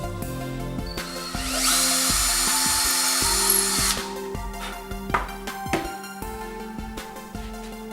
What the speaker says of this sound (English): We'll drill our hole here in the middle